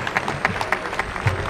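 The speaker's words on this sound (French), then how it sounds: "tout applaudissement pour ceux qui ont organisé la manifestation" Scattered clapping from a small outdoor crowd at a motorcycle charity ride gathering in Prénovel, offered to the event organizers; light, uneven claps continue steadily throughout at moderate distance.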